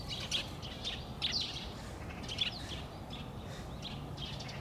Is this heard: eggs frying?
no